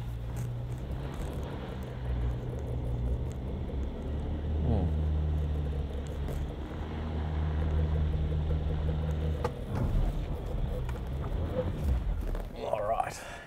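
A V6 4WD SUV engine holds constant throttle while climbing muddy ruts off-road, giving a steady low droning rumble that rises and falls slightly, with someone talking over it.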